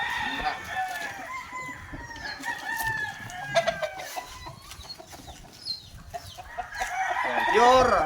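Gamefowl roosters from a delivered trio crowing and clucking at close range, with overlapping crows and a loud crow near the end, under light background talk.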